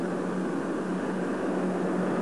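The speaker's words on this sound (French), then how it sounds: "Simplement en augmentant la poussée des réacteurs de sustentation." Dassault Balzac jet's lift engines throttling up for a vertical takeoff, a loud, steady broadband roar with a strong low hum, unbroken and close throughout.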